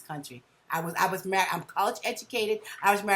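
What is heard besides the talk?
None of the usual background noises is heard.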